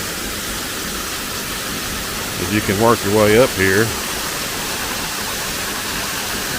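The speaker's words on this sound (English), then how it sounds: "another really cool thing about this waterfall" Haven Falls waterfall roaring steadily as a continuous broadband rush from beginning to end, with someone talking briefly over it.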